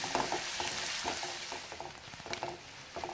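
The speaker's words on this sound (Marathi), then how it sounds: "आता इथे अर्धा मिनिटभर आपण कांदा व्यवस्थित परतून घेऊया। गॅस मोठाच आहे।" Chopped onion sautéing in a pan over a high gas flame, a soft continuous sizzle with faint stirring scrapes rising and falling, quiet and close with no voices.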